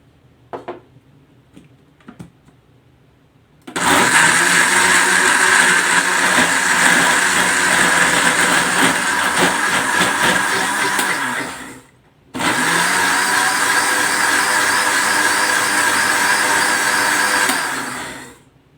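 A kitchen blender grinds a homemade mango milkshake with milk, running loud and steady in two long bursts separated by a brief pause, after a few faint clicks at the start.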